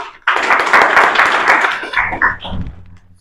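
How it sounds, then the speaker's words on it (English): A class of students applauds a classmate, a dense burst of many hands clapping together for about two seconds, then tapering into a few scattered claps and faint voices. "Very good. Clap for her."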